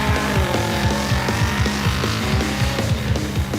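A powerful car engine thumps hard and loud, its rapid rhythmic low pulses and rising-falling revs filling the whole stretch without a break.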